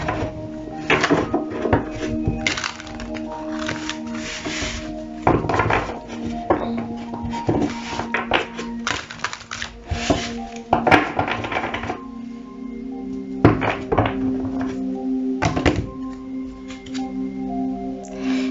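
Tarot cards being shuffled and drawn, with a steady run of soft slaps, riffles and light taps close by, without any talk.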